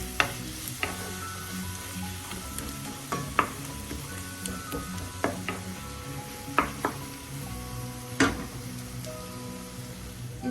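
Tomatoes and turmeric sizzle steadily in a pan for Kerala-style prawn theeyal, with scattered sharp scraping knocks of a spoon stirring the mixture close by.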